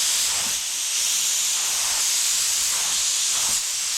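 Spray gun laying down coats of homemade kandy paint, a loud continuous airy hiss held close throughout with no pauses or talk.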